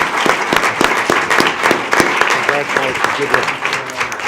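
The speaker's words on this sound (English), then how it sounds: "Let's give him a round of applause" A school board meeting audience gives a round of applause, with uneven, fairly sparse clapping and scattered sharp claps over several seconds while nearby voices talk over it.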